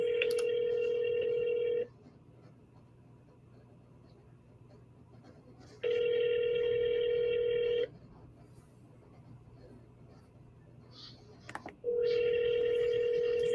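A telephone ringback tone on an outgoing call to an office line, steady two-second tones separated by four-second silences, heard three times, clear and close with faint room noise between rings.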